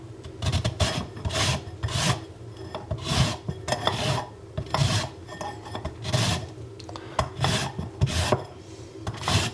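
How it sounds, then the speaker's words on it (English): A lemon is zested with a Deiss zester in a run of rasping strokes, each a bright scraping burst, repeated in a steady rhythm and heard up close with no talk. "So now let's zest the second lemon with the Deiss."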